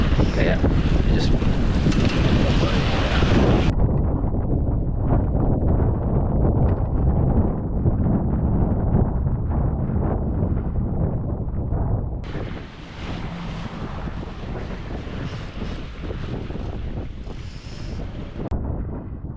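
Gusting wind buffets the microphone aboard a sailboat racing around Ireland's Eye, with water rushing and slapping along the hull. The roar stays loud and steady, then eases a little partway through.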